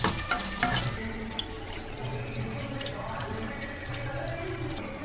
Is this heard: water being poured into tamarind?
yes